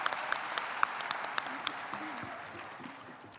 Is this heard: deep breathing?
no